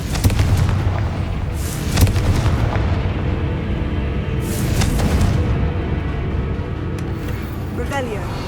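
Confringo blasting spell explosions in Hogwarts Legacy, with booming blasts near 2 and 5 seconds over a dense, continuous game soundscape with some talk.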